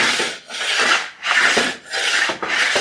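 Harsh rhythmic scraping of weld spatter off a steel table, four or five long strokes with brief pauses between, close and loud, no voices.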